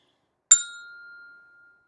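A single percussion bell struck once with a mallet, a sharp bright strike that rings on and fades away over about a second, alone and clear.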